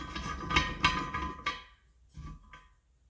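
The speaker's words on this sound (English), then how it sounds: "you can crack this loose with a ratchet" Sharp metallic clicks and knocks from a ratchet cracking loose a fitting on a dry nitrous intake manifold, a few close, loud impacts followed by quieter rattling.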